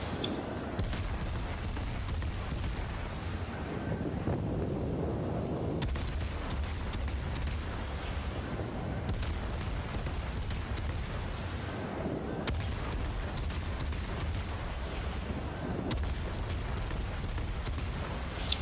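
Naval gun salvos from a Minotaur cruiser in World of Warships firing armor-piercing shells: heavy booming volleys arrive roughly every three to six seconds over a constant rumbling game soundscape.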